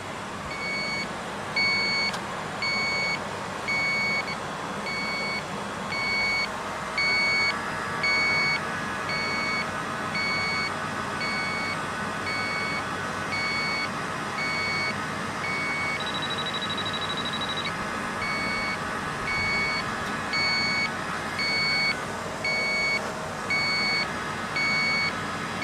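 A refrigerant leak detector beeps outdoors on a windy day beside a micro-channel HVAC coil, sounding a steady run of faint, evenly spaced high electronic beeps over a constant rush of wind.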